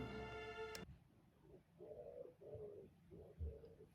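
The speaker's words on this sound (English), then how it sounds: "Maybe I do need to go close that window because that pigeon has decided." A pigeon coos outside an open window in soft, low, repeated phrases, fairly faint, after a brief tonal sound at the start.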